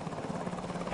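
A military helicopter flies close and loud, its rotor chop and engine rumble forming a steady pulsing roar.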